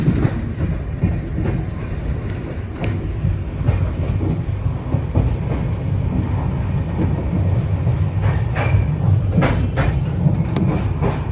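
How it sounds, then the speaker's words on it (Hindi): Shatabdi Express train pulling into Bandikui Junction on a cold day, a steady loud low rumble of rolling coaches with faint rhythmic clatter throughout, no talking. "चलिए बांदीकुई जंक्शन पर अपनी शताब्दी एक्सप्रेस का यहाँ पे अराइवल हो रहा है।"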